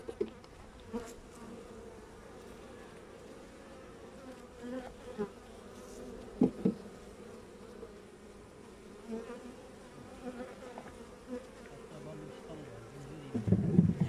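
Honey bees buzz steadily around an open hive during an inspection, a low continuous hum with occasional louder passes near the listener and faint voices underneath.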